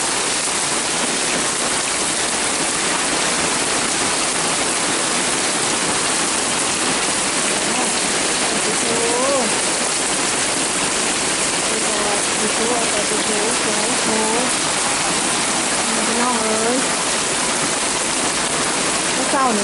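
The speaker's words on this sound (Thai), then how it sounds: "ลูกเห็บตกที่เดนมาร์ก" Hail and rain pelting down steadily in Denmark around 12 degrees, a dense continuous hiss close by with a voice speaking faintly beneath it.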